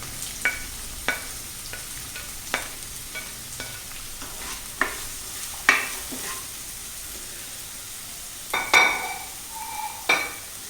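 A spoon stirs and scrapes in a pan as onions sauté for kappa bonda, giving soft sizzling under a series of distinct close clinks and scrapes spaced a second or so apart.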